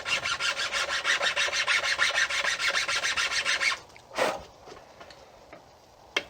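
Rapid, rhythmic rasping strokes cut a groove into the nock of a wooden self bow for about four seconds, close and clear, followed by a few scattered scrapes and taps.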